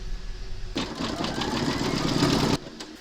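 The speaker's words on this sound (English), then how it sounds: "Pop your hoop into your machine and stitch round number 5" Embroidery machine stitching fabric to the hoop for a crazy patch notebook cover, a fast, even mechanical whirr that starts suddenly, runs for about two seconds and stops abruptly, with quieter machine hum before and after.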